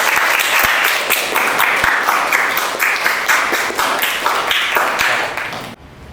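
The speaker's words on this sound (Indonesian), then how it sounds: "tepuk tangan untuk jawabannya Silvano ya" Schoolchildren in a classroom clap for a classmate's correct answer, loud close applause with distinct sharp hand claps standing out over the busy patter, stopping abruptly just before the end.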